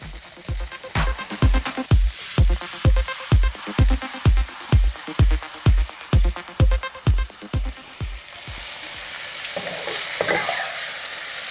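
Ivy gourd pieces are sautéed with onions and salt in a pan, and a spatula scrapes through them in a steady rhythm of about sixteen loud, close strokes over continuous sizzling, which then carries on alone.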